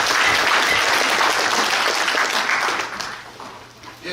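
Delegates at a regional union branch's regular delegates' convention in Gyeongju applaud together to approve an agenda item, a dense wash of clapping that holds steady and then thins out toward the end.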